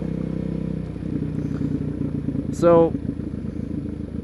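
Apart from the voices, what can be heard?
motorcycle engine running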